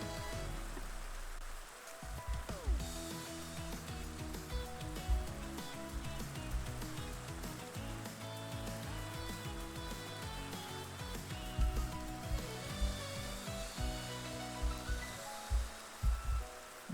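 Rain patters steadily on surfaces in a survival mining video game, a continuous wash of falling drops mixed with layered game music and ambient tones, with no talk over it.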